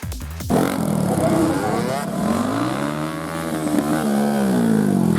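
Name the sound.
gymkhana motorcycle leaning and turning at speed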